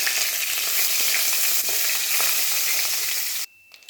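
Curry leaves hit hot oil in a frying pan for a chayote and green pea stir-fry, a loud, close, hissing sizzle that holds steady and then cuts off abruptly, leaving faint crackles.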